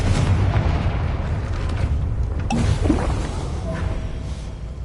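A Confringo explosion spell goes off in the video game Hogwarts Legacy, a booming blast over a steady roar of loud background game noise, peaking near the middle before settling back.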